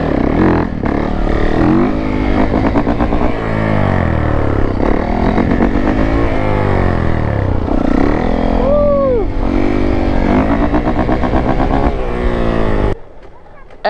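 A Honda CRF150R dirt bike ridden close by, its engine loud and continuous with repeated rising and falling revs through gear changes, cutting off abruptly near the end.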